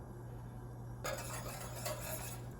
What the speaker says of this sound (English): Again, I'll shove my whisk in the corners.